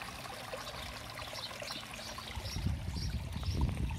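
Water trickles quietly through a small stream feeding a garden fish pond, a soft, continuous babble with gentle splashes and a low burble growing slightly louder toward the end; no talking.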